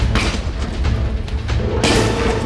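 Muffled booms and thuds ring out as a foil-wrapped butane gas can blows apart, with one heavy blast followed by another loud burst near the end.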